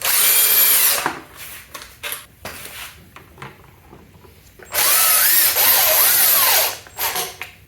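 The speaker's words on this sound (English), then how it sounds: "let's go ahead and remove the 5mm bolts that hold this plastic cover in place" A power drill runs in two loud bursts while removing 5mm bolts from a plastic cover on a Mototec 1000w/1600w Surron electric bike, with quieter clicks and handling noises between them.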